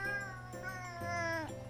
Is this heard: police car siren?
no